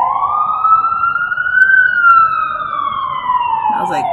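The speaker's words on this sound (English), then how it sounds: "That was like the second ambulance." A wailing ambulance siren passes by, loud and close, its pitch rising slightly and then falling away as the vehicle goes past.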